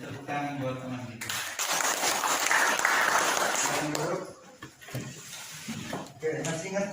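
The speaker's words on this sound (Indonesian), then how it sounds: "Tepuk tangan buat teman kita." Classmates applauding in a classroom, a burst of clapping that rises after a moment of talk, holds for a few seconds, then fades as a voice speaks again.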